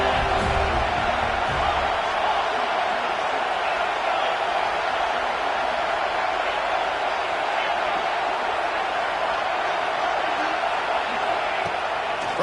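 A college football stadium crowd at a Florida State versus Florida game roars steadily as it cheers for the defense on a big third down, a dense, continuous wall of noise under a commentator's voice.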